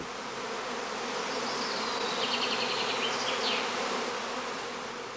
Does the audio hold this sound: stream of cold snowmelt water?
no